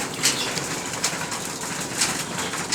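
Flock of pigeons, including an ash-grey one, landing from a rooftop, with soft repeated flutters and light wingbeat bursts at roughly one-second intervals over a hissy outdoor background.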